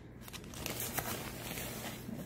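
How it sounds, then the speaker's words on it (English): Sand-coloured bath salt is scooped and poured into a container, a faint, close granular rustle and crinkle that swells briefly in the middle and then settles into a soft continuous trickle. "Just gonna take a little scoop and just pour it in"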